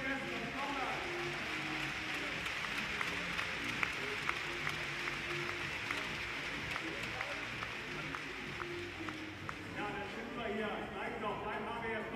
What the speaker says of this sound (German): Darf ich mal einen Applaus für euch haben?